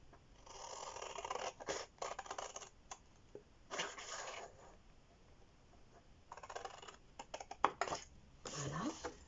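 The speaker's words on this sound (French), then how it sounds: "je vais couper. Donc ici, je coupe ici" Scissors snipping paper during a stamping craft project, several short bursts of close, crisp cuts separated by pauses, with quiet handling noise between them.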